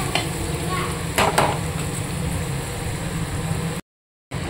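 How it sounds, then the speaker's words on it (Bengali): Rice stirred with a spatula in an old, worn non-stick wok for a fried rice dish: a steady scraping and shuffling over a faint sizzle, with a brief louder scrape cluster near the start, then a short cut to silence. "ভাত দেওয়ার পরে এই যে নেড়ে নেড়ে সব ভাতের মধ্যে সব মিশাবো।"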